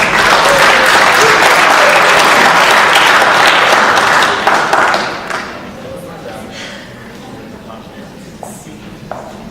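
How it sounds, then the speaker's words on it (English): Loud applause from the audience at a high school science and technology fair awards ceremony, dense clapping that holds for about five seconds, then fades to scattered claps and light thumps as the room settles. "Let's give her a round of applause."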